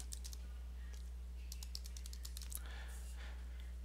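A password is typed on a computer keyboard during a Debian-based MX-15 Linux install, with quiet, close key clicks in short irregular bursts over a low steady hum.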